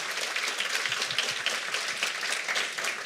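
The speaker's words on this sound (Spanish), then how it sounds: "Creo que un gran aplauso porque esa es como la palabra que mejor puede cerrar." Audience clapping closes a panel discussion on animation and memory, a steady, even patter of many hands held at moderate loudness through the whole stretch with no voices on top.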